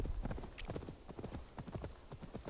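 Horse hooves clip-clop in a steady walking rhythm in the video game Assassin's Creed Valhalla, fairly faint under low background sound.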